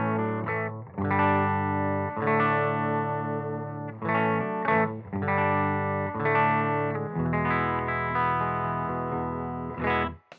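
A Heritage H535 electric guitar plays through a Skipjack Overdrive pedal into a Benson amp, giving lightly driven chords and phrases with a slightly gritty edge. Notes ring and sustain over about ten seconds, loud and close, with no voices.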